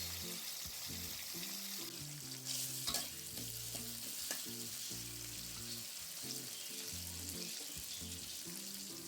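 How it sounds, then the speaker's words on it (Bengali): Chopped onion frying in a pan with cumin seeds and whole peppercorns for veg pulao, a close steady sizzle broken by scraping stirs and clinks of a spatula, no talk. "পেঁয়াজটা এবার একটু ভেজে নেব।"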